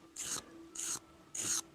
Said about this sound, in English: keeping that sanding block nice and flat with the tool